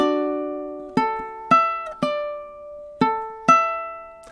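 Measure 11 of a song picked on a ukulele, with six clear plucked notes or chords in a slow, even rhythm, each ringing and fading, played alone up close.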